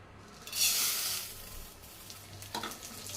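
Plain vermicelli (semiya) being lightly fried in a pan for semiya kesari, a brief bright sizzle swelling early then settling into quieter crackle, with a short clatter of stirring near the end; no talking.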